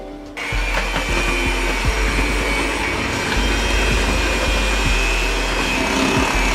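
An electric mixer whirs steadily through apple cake batter made with instant pudding and sour cream, a loud continuous drone that runs from start to finish with a few knocks of the bowl.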